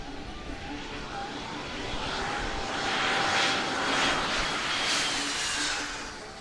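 An airplane flying near Corfu's international airport on the Mediterranean island, its engine roar steady and fairly loud, swelling midway and easing slightly toward the end, with no talk.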